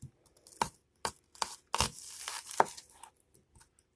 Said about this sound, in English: the easiest way to dice up an onion, for me anyway, is to cut it in half